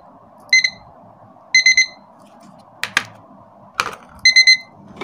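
An electronic alarm beeps in three short bursts of rapid triple tones, separated by gaps, with a couple of sharp clicks in between.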